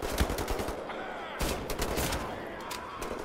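Booming shotgun blasts from a double-barrel in the shooter Wolfenstein: The New Order, loud and close, layered over dense gunfire and game noise with a sharp cut midway.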